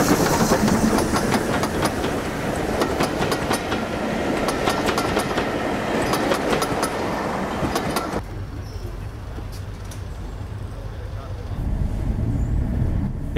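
A heritage train on the North Norfolk Railway rumbles along with rhythmic clickety-clack on the rails, loud and close, then fades to a quieter low hum.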